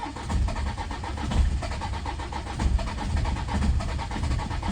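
Old diesel car engine with glow plugs coughing and turning over as it struggles to start, a continuous rough low churning with uneven pulsing surges, close and fairly loud.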